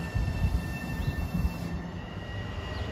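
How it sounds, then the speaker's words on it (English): LIRR Huntington commuter train pulling into Merillon Avenue station, a low steady rumble of rolling cars with faint wheel squeal and rhythmic rail clatter, moderately distant and no voices. "Huntington train arriving at 517."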